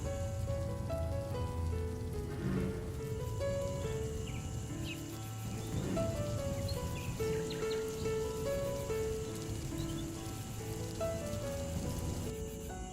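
Rain falls steadily in a bleak outdoor scene, a continuous soft patter with faint bird calls behind it.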